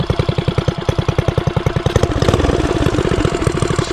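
A custom Motovox mini bike's small engine runs close and loud, first chugging in an even rapid pulse, then revving up into a denser, smoother buzz for the last couple of seconds, with no talking.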